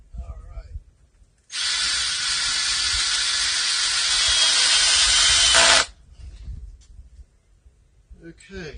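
A power drill drives screws while an end wall for a greenhouse high tunnel is framed, one continuous whine of about four seconds, close and loud, with a quiet voice and handling sounds before and after.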